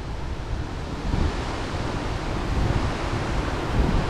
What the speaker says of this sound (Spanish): ¡Qué viento, tío!